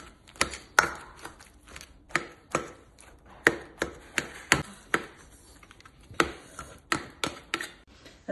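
A knife chopping peeled eggplant on a board, roughly twenty sharp close taps in an uneven but steady rhythm, clear and alone without talk.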